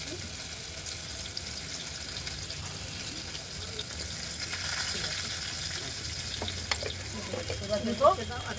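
Mustard oil sizzles in a frying pan at a rooftop picnic cookout, a low steady crackle under background noise with a few clinks near the end.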